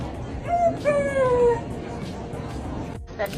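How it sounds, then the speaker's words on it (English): A dog wearing a service dog harness, encountered while flying, lets out a couple of short, high yelping cries over steady background noise; the sound is brief and then fades to ambient hum. "We just love getting barked at by dogs in service dog harnesses."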